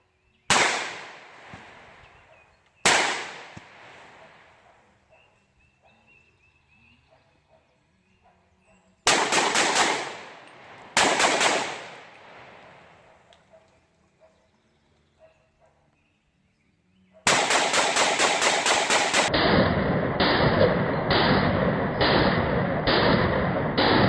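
A 300 AAC Blackout rifle firing at two-liter bottles outdoors: four loud, sharp single shots spaced apart, each trailing off in a decaying echo, then a dense burst of rapid reports followed by steady harsh noise.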